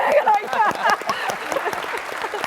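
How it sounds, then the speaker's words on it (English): Scattered hand clapping from a small group mixes with overlapping voices, brief and fairly close. "Would you like to give you a round of applause"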